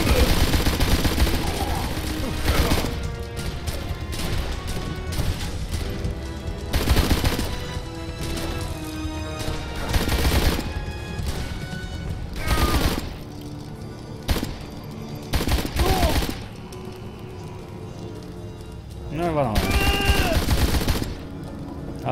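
Loud gunfire from a powerful weapon in the noir adventure game Blues and Bullets, repeated sharp blasts and bursts spread across the scene, some isolated, some clustered, with voices speaking between them.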